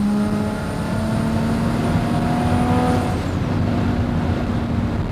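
A 700-horsepower 2JZ-engined Toyota Supra on a highway run at night, a loud sustained engine drone with steady tonal harmonics and road roar throughout, the whine dropping away near the end.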